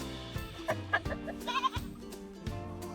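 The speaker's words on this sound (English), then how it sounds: "Little goats. Little annoying goats." Small farm goats bleating in a few short, close calls spread across a few seconds, with some knocking and movement sounds between them.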